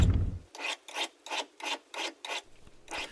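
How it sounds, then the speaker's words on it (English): A scraper blade is filed in seven even back-and-forth strokes, each a bright rasping pass with short pauses between, close and clear with no talk. "that gave me a second to sharpen up my scraper"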